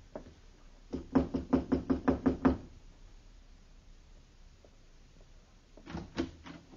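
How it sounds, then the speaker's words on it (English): A door is knocked in a radio drama set in the Old West, a rapid run of about nine close, crisp raps, then silence, then a shorter cluster of knocks. "Knock."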